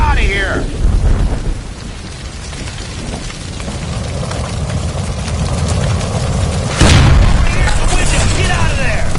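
A gas line blows up in L.A. Noire with one heavy, sudden boom about two-thirds of the way through. A dense rumble and crackle runs under it, and a voice speaks over the start.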